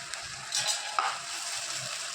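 Coconut pieces fry in a pan with a steady close sizzle, broken by a few light scrapes and clicks of stirring.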